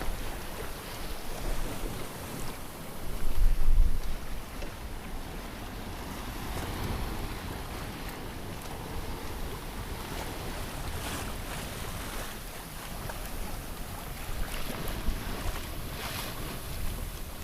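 A sailboat on a solo ocean voyage home to North Carolina moves through a slowly building swell in light air, with a steady wash of wind and water rushing past, and louder gusts buffeting the microphone.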